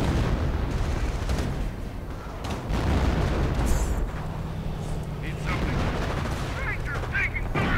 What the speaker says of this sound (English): And now artillery getting called in against the Grenadiers.